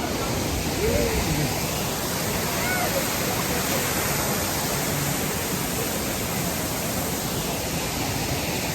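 Waterfall in Dingalan, Aurora, roaring as a loud, steady wash of rushing water that fills the whole scene without a break, close at hand.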